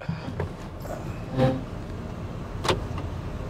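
A Citroën ë-C3 electric car carrying five people climbs a hill, its cabin filled with a low steady drone, broken by a couple of brief clicks and knocks from inside.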